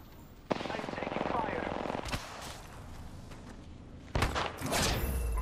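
Bursts of automatic gunfire from a video game firefight, a dense rattling stretch for about a second and a half, then quieter shots and a second loud volley near the end, with voices mixed in.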